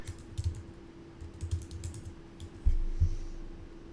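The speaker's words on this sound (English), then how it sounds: "I have to like type on my keyboard." Typing on a computer keyboard, a sparse run of close, distinct key clicks in irregular bursts, ending with a couple of louder heavy keystrokes, with no talking.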